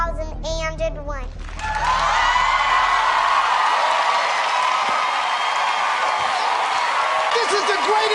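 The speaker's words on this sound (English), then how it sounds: "He gets mad applause" A TV studio audience on a talk show bursts into loud, sustained applause and cheering after someone speaks briefly, and the roar holds steady to the end.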